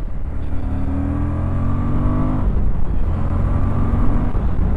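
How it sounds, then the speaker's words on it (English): A 2023 Suzuki V-Strom 1050 motorcycle pulls hard in third gear downhill, engine note rising steadily with a brief dip near the midpoint before climbing again, loud and close with steady wind rush. "We're going to do a third gear roll on down the hill"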